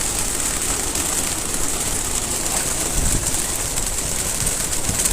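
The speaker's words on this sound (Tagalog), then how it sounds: "Paraming ibon o." Flock of released racing pigeons on a club training toss, a continuous wash of wing flutter and bird noise over a steady engine hum, fairly loud with no talk.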